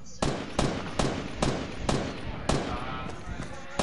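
Gunfire in a PS4 video game, a series of sharp, evenly spaced shots popping roughly every half second and heard moderately close, with no voices over them.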